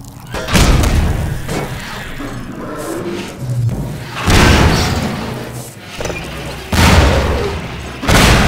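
Explosive barrel hurled by a zombie blowing up in Half-Life 2: several heavy booming bursts with thuds and crashes recur over a noisy game background, loud and close, with no talk.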